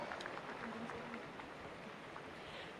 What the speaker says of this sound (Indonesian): Kita berikan tepuk tangan yang meriah untuk selebrasi gabungan perwira remaja